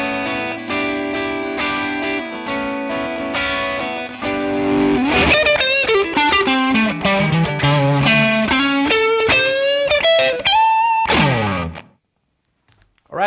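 An electric guitar rings out through a 1967 Sound City One amp pushed by a Tube Screamer, loud and sustained chords and single notes with bends, ending in a sudden cutoff to near silence.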